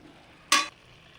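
Cabbage curry with spices is stirred in a pan with one short, bright scraping swish of a spoon over a soft sizzling background, close and alone.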